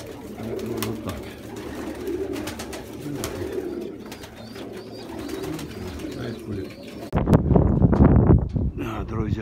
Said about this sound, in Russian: Да, друзья мои, ну, все, наконец, голубей выпустил.